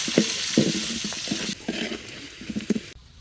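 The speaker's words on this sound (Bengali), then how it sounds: "এখন গোস্ত ভাজার তেলে আলুটারে ভাজিয়ে নিমু।" Potato pieces frying in hot oil left over from frying meat, seasoned with a little salt and turmeric, with close stirring scrapes and a steady sizzle that fades near the end; no talk.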